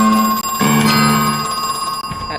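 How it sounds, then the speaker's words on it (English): An in-game telephone rings loudly and steadily in the survival-horror video game Crow Country, its bright electronic trill repeating without pause from start to finish. "We're gonna ignore that phone, so I'm sorry if that annoys you."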